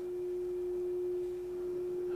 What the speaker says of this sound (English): I have a sine wave.